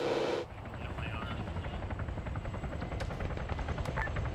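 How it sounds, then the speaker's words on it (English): A burning helicopter in a military video game gives off a steady low rotor drone, with a sharp burst at the start and faint cracks of distant gunfire throughout. "That helicopter's on fire."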